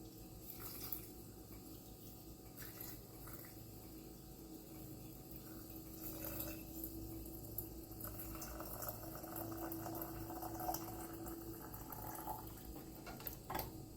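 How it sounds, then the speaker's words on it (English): Brine pours into a jar of pickled jalapeños in a quiet, continuous trickle, with a gentle watery gurgle that swells slightly partway through. "then I'm going to pour the brine in"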